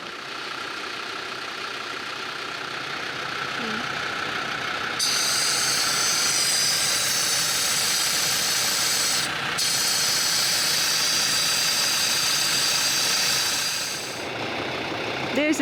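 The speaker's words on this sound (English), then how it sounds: "There's a tractor." A tractor engine runs steadily on a rural road in Bolivia, a continuous mid-distance rumble and drone that grows louder partway through, then eases slightly toward the end.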